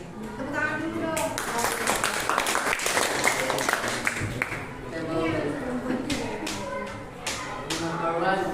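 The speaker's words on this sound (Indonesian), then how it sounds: "Tepuk tangan dulu dong." A classroom of pupils claps hands together in a lesson about clever mammals, a dense, steady burst of applause running throughout with voices mixed into it.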